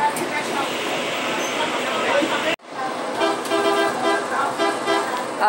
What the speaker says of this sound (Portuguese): Ó, a buzininha.